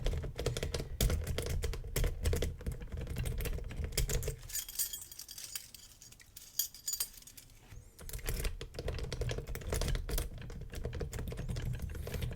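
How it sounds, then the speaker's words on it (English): A cheap AliExpress tryout key is worked in a pin tumbler lock, giving continuous close metallic rattling, scraping and jiggling with a short quieter pause in the middle. "lift the back, withdraw it slightly, all sorts of wriggling and jiggling."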